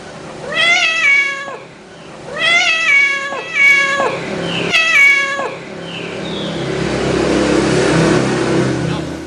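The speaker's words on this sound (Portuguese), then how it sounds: "O gato, muitos não falam lá que ele fala miau." A cat meows three times in a drawn-out, rising-falling pattern, followed by a vehicle engine revving and accelerating.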